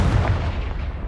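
A Confringo fire spell from Hogwarts Legacy blasts, a loud, close booming burst with a deep rumbling body that decays quickly over about a second.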